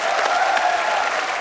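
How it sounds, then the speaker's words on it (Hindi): A studio audience at a comedy talk show breaks into loud, steady applause, a brief dense burst of clapping with no talk over it. "जोरदार तालियां हो जाए।"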